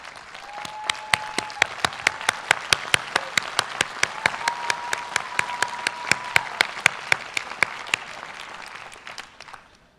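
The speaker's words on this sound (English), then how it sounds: "They deserve the real hand of applause in gratitude from us." Clapping from the audience at a class of 2016 graduation ceremony, sharp separate claps in a fairly steady rhythm over a quiet hall background, gradually fading toward the end.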